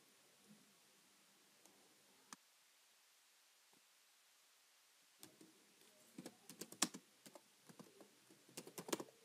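Keys clatter on a computer keyboard as a blog comment is typed, sparse single taps at first, then a denser run of quick keystrokes near the end, close and fairly quiet against a silent room.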